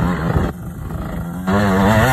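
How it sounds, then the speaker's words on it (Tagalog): A motorcycle engine revs close by, its throaty growl dipping briefly before surging back up. "Yan ang motor niya eh."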